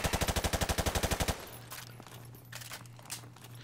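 Rapid automatic gunfire from an M4 Carbine assault rifle in Call of Duty Modern Warfare Remastered: a fast, even burst of about fifteen loud shots that cuts off abruptly, leaving a low hum and faint clicks.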